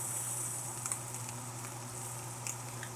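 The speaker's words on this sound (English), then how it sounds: "And then you put it in a hot pan like this." A chuck steak searing in a hot pan gives a steady, close sizzle with faint crackles and pops, continuous throughout and with no one talking.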